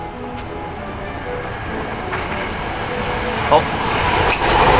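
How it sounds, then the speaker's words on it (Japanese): Kyoto subway train running through ancient ruins in Nara, a low steady rumble that slowly grows louder as it approaches, with a brief clank near the end and a man's short exclamation at the start. "電車がまた来るみたいでね"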